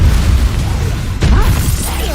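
A Bombarda spell detonates in the video game Hogwarts Legacy: one sudden booming blast about midway, cutting through steady background game noise, with voices talking around it.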